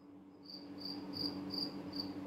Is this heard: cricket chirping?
yes